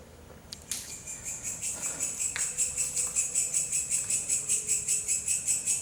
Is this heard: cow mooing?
no